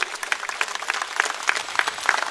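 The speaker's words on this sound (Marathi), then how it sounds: "टाळ्यांचा आवाज विरोधकांच्या कानात गेला पाहिजे" Crowd applause at a public rally in Nashik, steady dense clapping from many hands with sharper individual claps standing out, continuous and fairly loud throughout.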